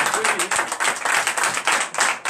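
Congregation at a night deliverance and prophecy church service claps and cheers in a dense, steady burst, fairly close and loud, with voices shouting over it.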